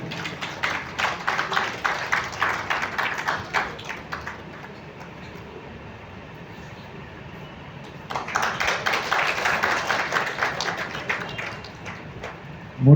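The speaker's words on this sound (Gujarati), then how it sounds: "આપણે એમને પણ જોરદાર તાળીઓથી વધાવીએ." Crowd applause at a Shrimad Bhagwat religious gathering, two bursts of many hands clapping in a large hall with a quieter gap between, fairly close and loud.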